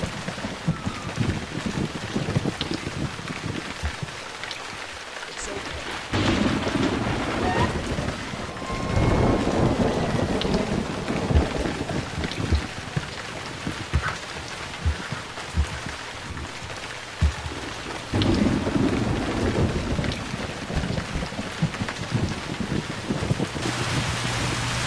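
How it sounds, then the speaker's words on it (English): Thunderstorm in the Emergency 4 game: steady heavy rain on surfaces with repeated low thunder rumbles and surges swelling and fading, loud and continuous without speech. "Lightning strike."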